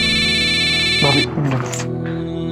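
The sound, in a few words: phone ringing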